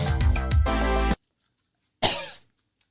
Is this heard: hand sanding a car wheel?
no